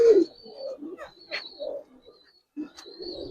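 Old-breed Bagha pigeons coo at close range in a loft, several short throaty phrases separated by pauses, with a few thin high chirps and whistles between them.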